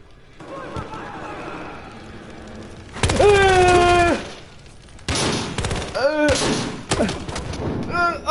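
Battlefield Hardline gameplay with bursts of rapid gunfire and heavy grenade blasts, loud and close, mixed with shouting voices.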